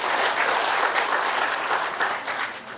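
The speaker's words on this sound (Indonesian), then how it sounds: "tepuk tangan untuk internet" An audience at a Bandung government coordination meeting claps loudly and steadily for nearly three seconds, a dense crowd of hands with no voices above it.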